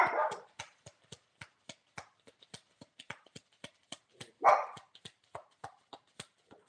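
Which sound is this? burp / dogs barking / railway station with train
dogs barking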